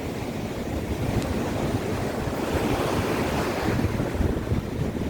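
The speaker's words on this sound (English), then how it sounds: "And yeah, the tide's coming in." Ocean waves surge and wash steadily at Loch Ard Gorge as the tide comes in, a continuous loud roar of surf mixed with buffeting wind noise on the microphone, with no voices.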